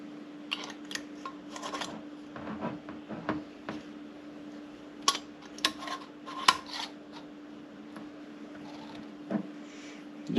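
Metal screw lids scrape and click as they are twisted onto glass canning jars of pickled eggs, a run of close clinks and rubbing taps over a steady low hum.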